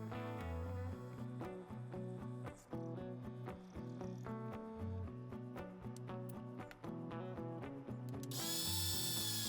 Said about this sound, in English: I'm gonna use this centering drill, so when I'm gonna drill the hole